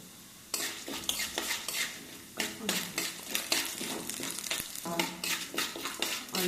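Sharp clatters and scraping of a spoon stirring in a pan, with steady sizzling of curry leaves roasting in hot oil, close and busy, no voices.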